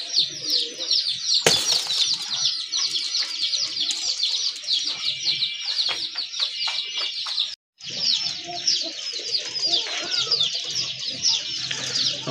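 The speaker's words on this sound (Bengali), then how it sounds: "মাশাল্লাহ আরেক জোড়া কবুতর, এটাও কিন্তু দেশি কবুতর" Domestic pigeons shuffle and flap their wings close by, among dense chirping and cooing from many birds, with a sharp bang early on and a short gap before the busy bird noise carries on.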